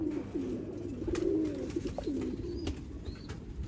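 Pigeons coo in soft, repeated rolling calls, close by and steady, against a low background hum with a few faint clicks and no voices.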